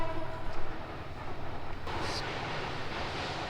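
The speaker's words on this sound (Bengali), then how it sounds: "ওই যে ওই রাস্তা ট্রেন চলতেছে, দেখো না ক্লিয়ার করে দিচ্ছে হুইসেল দিয়া, ট্রেন যাচ্ছে ওই দিক দিয়ে" A train passing at a distance near Sreemangal, heard as a low, steady rumble of rolling wagons. A faint, brief higher tone rises above it midway, and the whole sound stays fairly quiet, with no voices.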